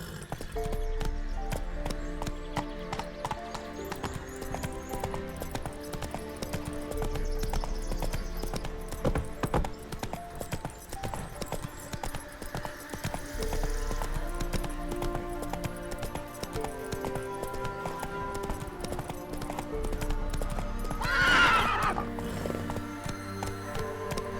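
Roach, the horse in The Witcher 3, gallops with steady rhythmic hoof clip-clop over game music, and a brief neigh breaks through near the end.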